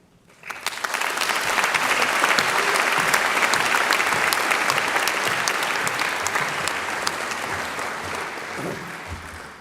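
Audience at a university graduation ceremony breaking into applause, loud dense clapping that starts abruptly, holds steady for several seconds, then slowly thins.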